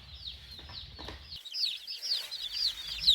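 Baby meat chicks chirp in a steady stream of high, sweet peeps, many birds close together, with some low shuffling and bumping underneath early on before the peeping carries on alone.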